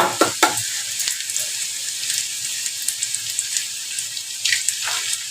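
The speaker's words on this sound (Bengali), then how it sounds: "মাঝখানে দুটো ডিম পাতিয়ে দিল" Two eggs sizzle in a pan among frying potatoes, giving a steady hiss broken by a few loud scraping clatters at the start and a brief burst near the end.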